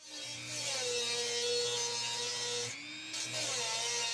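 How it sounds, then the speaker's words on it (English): Dremel fitted with a grinding wheel cutting a window into an old HP computer case, a close high whirring grind that holds steady, dips briefly near the end, then resumes. "I'm using a Dremel with a grinding wheel to cut a window, so later I can fit a piece of plexiglass."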